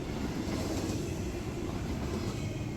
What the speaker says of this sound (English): The train that NS 1069, the Virginian, is on today is NS Train 264